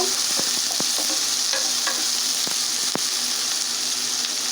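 Chopped onions frying in hot soybean oil for beef biryani, a steady loud sizzle with scattered sharp clicks and scrapes of a spatula stirring the pan, no talking.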